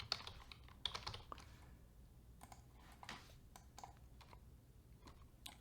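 Fingers type on a computer keyboard, quiet and close, in irregular runs of clicks with short pauses and no talking.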